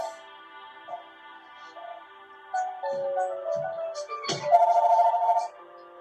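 A phone ringtone plays a tonal melody, quiet at first then louder, with a couple of faint voice-like sounds mixed in.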